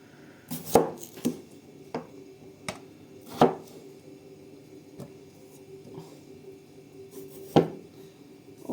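A knife chops potatoes on a board in an irregular series of crisp, close knocks, some louder than others, over a faint steady background hum.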